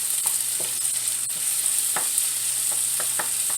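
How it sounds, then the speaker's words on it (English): Onions frying in a pan for vegan stuffed cabbage, with a constant bright hiss of sizzling oil and soft, regularly spaced scraping strokes from a spoon being stirred through, up close and with no speech. "I'm going to give that a little stir."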